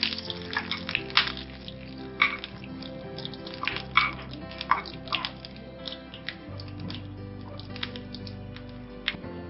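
Hot oil sizzles and crackles as a tempering (baghar) is prepared for Hyderabadi dahi baray, with sharp spits and pops scattered over a steady frying hiss, near and moderately loud, with a low hum underneath.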